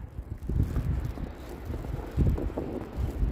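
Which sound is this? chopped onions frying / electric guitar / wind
wind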